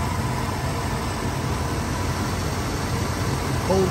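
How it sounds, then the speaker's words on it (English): A 1975 Chevrolet Caprice Classic convertible with a stock 350 V8 idles in a steady, low rumble that holds even throughout without revving. "it's got a 350, all stock and original, running great."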